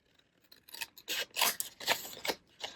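Scissors snip diagonally through card at the corners, a quick series of close, crisp cuts with short gaps between them.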